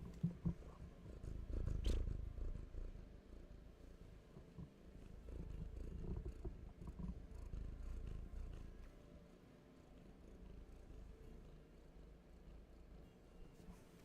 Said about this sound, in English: Guys want some cat ASMR?